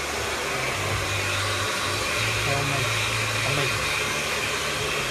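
A hair dryer blows on hair during a short layered bob haircut finish, giving a continuous loud whooshing whir with a steady motor hum throughout.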